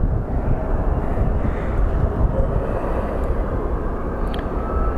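A Mesa Airlines airliner rumbles at Phoenix Sky Harbor International Airport, a heavy low engine roar heard from a distance, steady with slight swells and some wind buffeting, and no talk.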